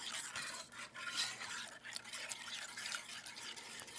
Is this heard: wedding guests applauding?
no